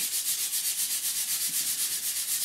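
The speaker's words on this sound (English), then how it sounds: "they're all sanding very, very nicely" Quick, even back-and-forth sanding strokes rasp steadily across a painted model, close up with a regular rhythm and no talking.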